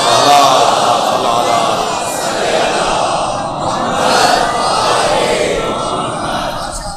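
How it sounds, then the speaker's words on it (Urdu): A mosque congregation recites salawat on Muhammad and his family together, a loud massed chant of many voices that swells and sustains for several seconds. "صلوات پڑھیں ذرا محمد و آل محمد"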